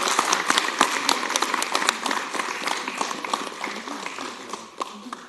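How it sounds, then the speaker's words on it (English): An audience at a city council meeting applauds with dense, steady clapping that is fairly close, tapering slightly toward the end. "Let's do a round of applause."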